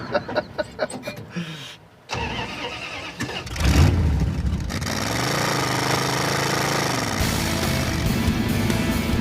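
A project car's engine cranking and catching, then settling into a loud, rough, steady idle as it warms up, preceded by scattered knocks and clatter in a garage.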